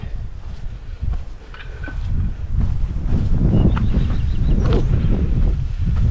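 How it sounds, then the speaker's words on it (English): Wind blows outdoors at Hodge Close near Coniston, buffeting the microphone with a steady, rising low rumble. A voice makes a brief sound early on. "it's getting a bit windy now"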